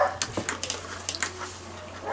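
A dog barks a few times, faint and somewhat distant, in short sharp bursts.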